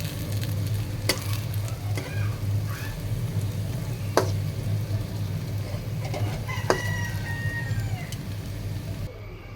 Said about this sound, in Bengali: তেল দিয়ে আমি পিঠাগুলো সুন্দর করে ভেজে নেব